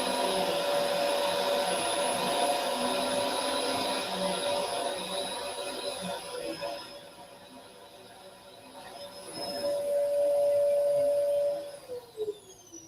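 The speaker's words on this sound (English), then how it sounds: "A vacuum cleaner. Or a sweeper, as we call it in Pittsburgh." A vacuum cleaner whines loudly and steadily, dips partway through, surges again, then powers down with a falling whir near the end.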